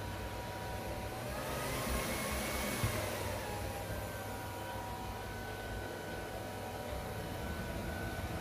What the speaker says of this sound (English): the LG CordZero ramps up its suction power to try to get the bits and debris from the edges